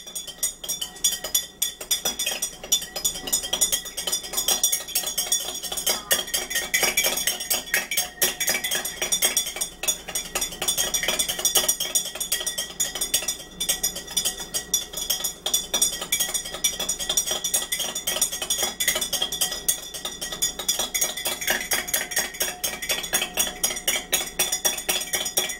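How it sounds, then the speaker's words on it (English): A spoon stirs apple cider vinegar with lemon juice and honey in a glass, giving continuous close metallic clinks and scraping that rattle on steadily with no talk. "You stir it up."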